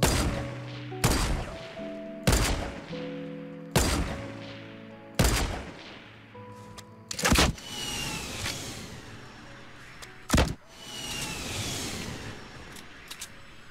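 Several loud gunshots ring out in Fortnite Battle Royale, spaced irregularly with sharp bursts and echoing tails, followed by a couple more shots.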